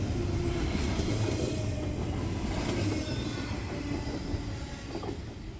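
A Delaware & Hudson freight train hauling 53-foot containers rolls past close by, a loud continuous rumble of wheels and cars with faint rail squeal, holding steady before easing slightly toward the end.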